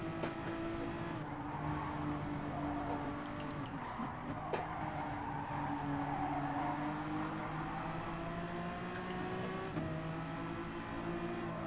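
A Honda NSX race car in a racing video game launches off the start line, its engine holding a loud, steady, buzzing drone with gently rising and falling pitch for the whole stretch, close and continuous, with no talking over it.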